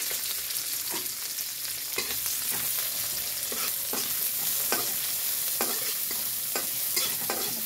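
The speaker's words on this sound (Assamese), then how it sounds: "অকণমান ভাজি ল'ম পিঁয়াজখিনি ভালকৈ" Onions and green chillies frying in a pan for an Assamese fish curry, a continuous close sizzle broken by regular scraping stirs about once a second, with no voices.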